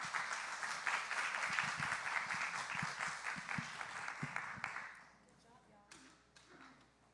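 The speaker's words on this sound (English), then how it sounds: "Let's give them a round of applause." Audience applause at a school board trustee candidate forum, a full room clapping steadily for about five seconds before it thins out into scattered claps and fades.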